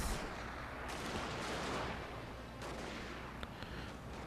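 Own artillery and musket guns firing in a Total War: Shogun 2 Fall of the Samurai battle, a dense continuous rumble of distant fusillade with a few sharper shots standing out near the end, no talk.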